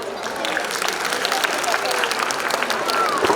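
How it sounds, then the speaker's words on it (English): An audience at a preprimary school annual function applauds, a busy, steady patter of many hands in a large room, with crowd noise and voices mixed in. "A warm round of applause, please."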